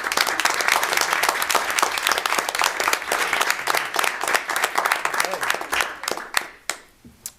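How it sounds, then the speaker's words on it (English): A school committee audience gives a round of applause for cheer athletes, with dense, steady clapping that fills the room before thinning into a few last claps and fading out. "I'd just like to give them a round of applause and recognize them for their hard work"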